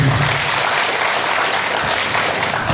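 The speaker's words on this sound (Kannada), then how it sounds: "ಒಂದ್ಸರಿ ಜೋರ ಚಪ್ಪಾಳೆ ಹೊಡ್ರಿ ಸರ್" Loud, sustained applause from an audience at a Kannada literary gathering of a veterinary literature council, dense clapping filling the whole stretch with no voices on top.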